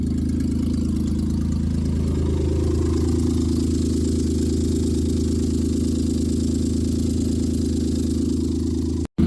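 A 1995 Plymouth Voyager's rough-running 3.0 V6 idles while warming up, a steady, loud low drone with an even rumble throughout, ending abruptly.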